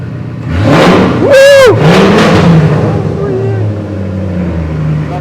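A Jeep Grand Cherokee WJ engine on its stock exhaust revs loudly and close by, rising in a sharp sweep and then settling into a low idling rumble, with people talking over it.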